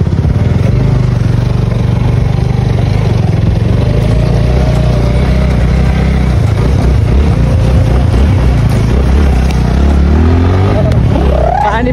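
A motorcycle engine runs loudly and close after being restarted on a wet road, a rough steady drone with some revving fluctuations and faint voices underneath.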